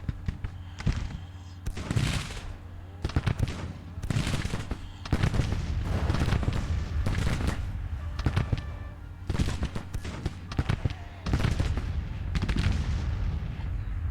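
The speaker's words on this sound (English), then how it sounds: "Counter battery fire, please." Counter-battery artillery fire in the strategy game Grand Tactician, heavy cannon booms and gunfire cracks going off repeatedly and irregularly across the battlefield, loud and dense throughout.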